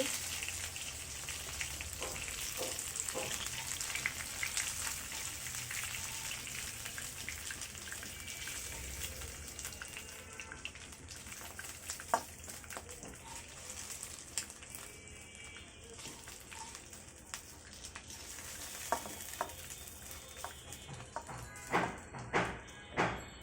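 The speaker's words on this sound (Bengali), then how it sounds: "অন্য পাশটাও ফেরাই করে ফিরে আসছি আমাদের মাছগুলো ফেরাই করা হয়ে গেছে" Aar fish fry in oil in a pan, a steady bright hiss and sizzle running throughout with scattered pops and crackles growing sharper toward the end.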